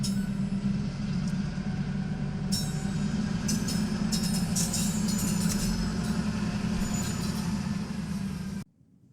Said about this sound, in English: the switch train has, in fact, activated the crossing signals again and stopped prior to the crossing